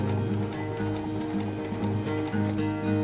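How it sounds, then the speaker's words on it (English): A sewing machine stitches along the edge of a red leather backrest cushion for a rocking Morris chair, with a fast, steady mechanical ticking and hum, close and continuous throughout. "we'll sew down the other side of the cushion."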